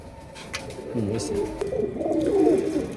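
Pigeons coo softly in a loft, Royal Teddy high flyer birds, low repeated warbling coos rising toward the end over a faint background hum.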